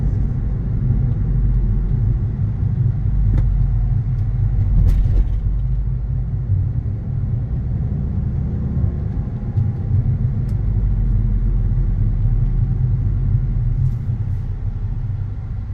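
A 2013 Volkswagen Beetle 2.0 TSI drives along, heard from inside as a steady low engine and road rumble with faint clicks, the tone shifting slightly as it runs through gears.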